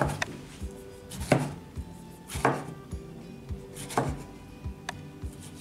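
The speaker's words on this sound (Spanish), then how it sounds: "Voy a cortar un poquito más de jitomate." Knife chopping tomato on a cutting board in a home kitchen, with sharp, near, irregular knocks and a few louder strikes spread across several seconds, no talking.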